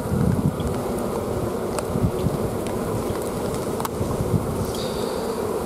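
Honey bees buzzing around an open hive during mite treatment, a dense close drone with individual bees zipping past the microphone and light wind noise.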